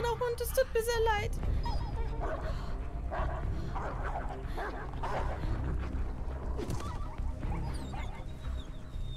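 A small dog whimpers and yips in the video game Beyond Two Souls, heard over a dense, loud game soundscape, with a voice talking throughout.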